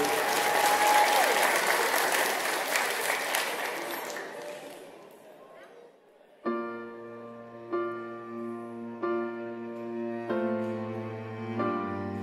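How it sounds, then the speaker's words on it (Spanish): Dense applause from a crowd at a quinceañera reception at the Bellevue Conference Center in Chantilly, Virginia, fades out over several seconds before sustained piano-like musical notes begin. "fuerte aplauso para la mamá"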